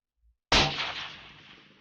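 A single rifle shot fired through a Thunder Beast Magnus suppressor with a muzzle brake, a sharp loud crack after silence followed by a long rolling echo that fades outdoors.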